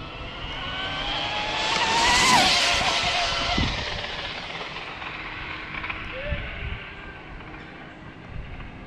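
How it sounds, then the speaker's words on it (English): A Hobao VTE2 dual-motor RC car on a road speed run rises to a loud high-pitched squeal that swells and fades away, followed by scattered rattles and knocks. "That was a high pitched squeal."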